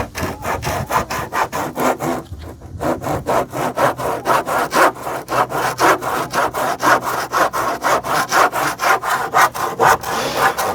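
Hand saw cutting through wooden boards, a steady run of rhythmic back-and-forth strokes, close and loud, with one brief pause near the start and no talk.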